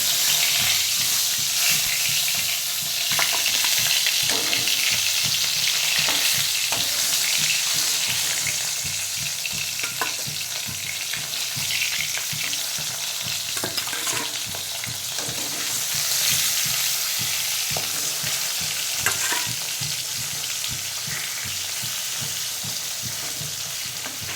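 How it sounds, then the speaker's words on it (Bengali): Fish pieces fry in hot oil in a wok for a fish curry with greens, giving a steady, loud crackling sizzle throughout with occasional sharper pops and spatters, no voices. "এবার আমি তেল দেব, মাছগুলোকে ভেজে নেব।"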